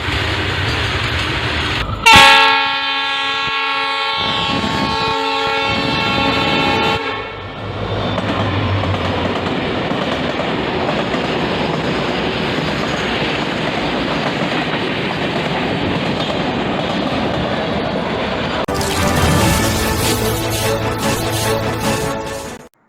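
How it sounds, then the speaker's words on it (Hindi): An Oxygen Express train at Bokaro Steel City station rumbles along the rails with steady wheel clatter, while a loud horn blasts near the start and sounds again toward the end, with no voices. "ऑक्सीजन एक्सप्रेस ट्रेनों की आवाजाही को सुविधाजनक बनाने के लिए"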